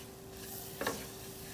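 Butter melting in a pan for chicken lasagna gives a faint, steady soft sizzle with a low hum and one brief stir-like scrape midway.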